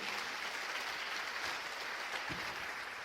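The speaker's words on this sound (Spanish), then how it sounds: "Denle un aplauso al Señor" Church congregation applauding steadily, a dense even wash of clapping that holds at the same level throughout.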